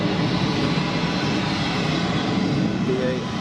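A British Airways airliner taxis at Geneva Airport, a continuous loud engine rumble and roar, with voices faintly present.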